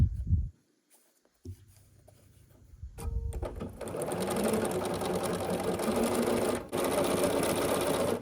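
A sewing machine stitches a quarter-inch seam on a nine-patch quilt block, starting after a few quiet handling sounds and then running steadily and close with a brief pause.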